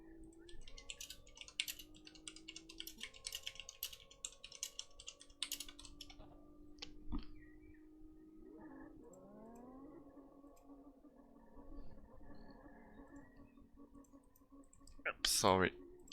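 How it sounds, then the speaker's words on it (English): Computer keyboard typing while a message is written to drivers in a sim-racing session: quick clusters of light key clicks over the first six seconds, then sparser taps over a steady droning tone, with a sharp burst near the end. "was typing some message to some drivers"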